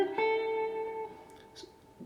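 A guitar plays a quick blues scale run in A ending on the octave, a few clear plucked notes at the start that ring out and fade, quiet and alone.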